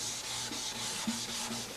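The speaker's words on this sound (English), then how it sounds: "I prefer to use straight strokes with the grain in the final sanding" Hand sanding runs with the grain over a very thin, hand-applied finish on a guitar, heard as rhythmic back-and-forth rubbing strokes, close and fairly soft, with no voices.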